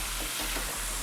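Fish pieces for paleo fish tacos frying in a pan, a loud close continuous sizzle with stirring and shifting scrapes, no voices.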